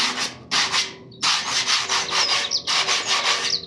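Rough, scratchy strokes of 100-grit sandpaper rubbing epoxy primer on a Honda Transalp fairing and fuel tank, in quick rhythmic bursts with short pauses, close and fairly loud.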